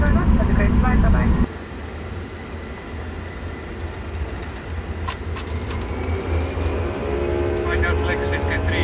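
An Airbus airliner spools up for takeoff from an Antarctic runway in a flight simulator game, a loud engine roar that drops after a second and then builds steadily, with faint clicks and cockpit voices.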